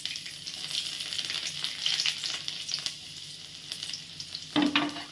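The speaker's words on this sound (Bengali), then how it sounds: "এবার আমি তেলের মধ্যে এই এক এক করে দেব। প্রথমে দেব গার্লিক" Minced garlic sizzles and fries steadily in hot oil, a dense crackling hiss close up with a brief stirring clatter near the end.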